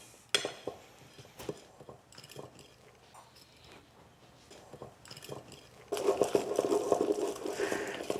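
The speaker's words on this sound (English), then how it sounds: "So I'm going to start mixing it like this." Cake batter being stirred in a bowl, a Provençal orange cake made with ground almond instead of flour; soft scraping and clinking of a utensil against the bowl, growing busier and louder toward the end.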